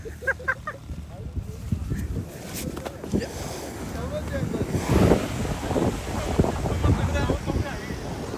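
Ocean surf at Madhavpur beach in Gujarat, with waves washing in and out. Heavy wind buffets the microphone, and voices can be heard faintly in places.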